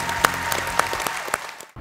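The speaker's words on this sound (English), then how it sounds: "I just want everybody to just clap their hands for Mike Kelly, Hall of Fame coach." A crowd gives brief applause for a Hall of Fame coach, with a few distinct sharp claps inside a short burst that stops abruptly.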